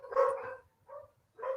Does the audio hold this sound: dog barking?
yes